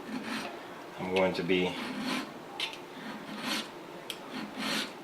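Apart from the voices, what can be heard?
flat file filing a 1911 pistol trigger guard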